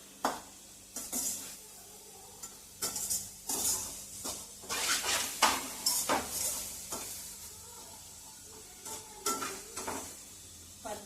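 Grated coconut roasting in a pan, stirred with a spoon: a steady dry sizzle punctuated by repeated scraping strokes and clinks against the metal, close and fairly loud, with no talking.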